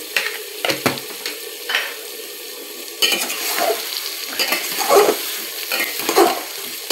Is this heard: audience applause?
no